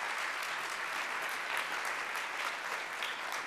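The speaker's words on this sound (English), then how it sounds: "Give him a big applause." Audience applause at the Swedish Game Conference lunch talk, with steady, dense clapping from a crowd filling the hall for the full few seconds and no voices over it.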